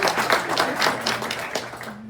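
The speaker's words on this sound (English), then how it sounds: "So let's give Kitty a round of applause." Applause at a Rotary Club meeting, a steady crowd clapping for about two seconds, moderately loud and fairly close, with no talk over it.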